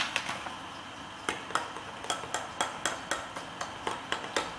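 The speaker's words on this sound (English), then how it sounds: "So just give it a bit of a stir for a while." A spoon clinking against the sides of a jug while stirring a keto baking mixture into 150 ml of liquid, steady repeated taps that quicken into a regular rhythm, close and fairly quiet.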